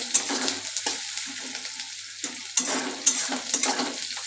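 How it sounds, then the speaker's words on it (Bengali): Chopped green chillies and onions frying in a pan for egg chowmein: a close sizzle with repeated scraping and tapping of a spatula, a few sharp metallic clicks standing out, no one speaking. "এবার দেবো লঙ্কা কুচি, লঙ্কা কুচি দিয়ে দিলাম। এবার ভালো করে ভাজতে হবে এগুলো।"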